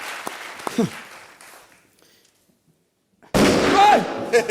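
A sharp gunshot sound effect rings out on a comedy show, then near silence, before a loud noisy rush of sound with crackling pops at the end.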